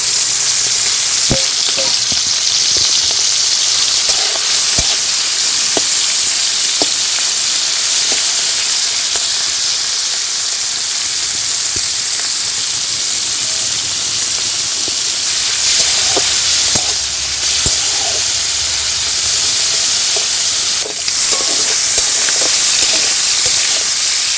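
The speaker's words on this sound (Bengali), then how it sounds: "তো কড়াইতে তেল দিয়ে দিচ্ছি, গরম হলে চিংড়িটা দিয়ে দেবো ভাজার জন্য।" Prawns fry in hot oil in a wok (kadai), giving a loud, steady sizzle and hiss that runs unbroken for about 24 seconds with faint stirring clicks and no talking.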